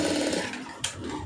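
A sewing machine runs briefly while stitching fabric, giving a close, rapid mechanical whir with a small clack near the end of the burst.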